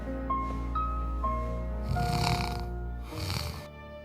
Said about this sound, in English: he was snoring peacefully.